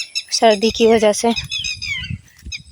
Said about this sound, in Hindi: कितनी मस्त तरीके से चिड़िया बोल रही है